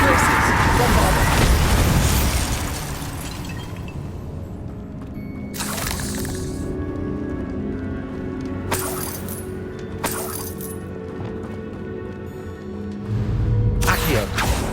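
Bombarda blasting spell in a Harry Potter game, a loud shattering burst at the start that fades into a lingering rumble, followed by sharp cracks and a heavier crash near the end.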